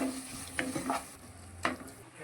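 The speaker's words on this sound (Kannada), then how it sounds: "ಇವಾಗ ಎಲ್ಲ ಒಟ್ಟಿಗೆ ಮಿಕ್ಸ್ ಮಾಡ್ಕೊಳ್ಳೋಣ." Tomatoes and salt are stirred in a frying pan for Mangalorean egg sukka: a spoon scrapes and taps the pan in a few irregular strokes over a soft, steady sizzle, close and quiet.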